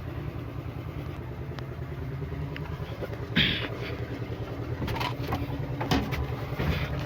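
The engine of a 2006 JCB machine turns over and settles into a steady, rumbling diesel idle, a low clattering drone throughout with a sharp mechanical clunk partway through.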